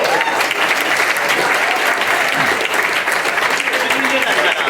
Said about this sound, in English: Let us applaud this young man.